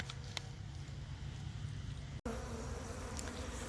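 Bees in an opened beehive give a steady close insect buzz that fills the whole stretch, broken by one brief dropout near the middle; no voices.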